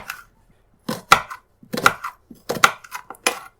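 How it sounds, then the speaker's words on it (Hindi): A knife roughly chops peeled onions on a board in a home kitchen: four close, crisp bursts of rapid knocking, separated by short pauses, with no talk. "अब इन प्याज को हम रफली चॉप कर लेंगे"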